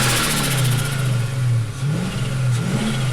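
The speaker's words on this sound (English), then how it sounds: "Recirculating, that's where the flutter comes in because air is being recirculated back into the system." The supercharged engine of a 2004 Mustang GT runs close by with a steady mid-range drone. Short fluttering pitch wobbles from the recirculating blow-off valve break through the hum and broadband whoosh.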